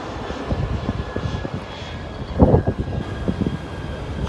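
A fixed-wing airplane flies overhead near a beach on the Riviera, a low droning engine rumble that swells to a louder burst midway and then eases, heard amid outdoor ambience.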